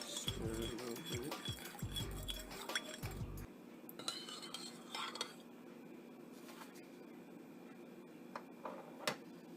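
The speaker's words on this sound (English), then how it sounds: "Stir it a little bit." A spoon stirs salt into water in a glass, giving faint, close clinks and taps against the glass at first, then quieter scattered ticks, with some soft talk in the room.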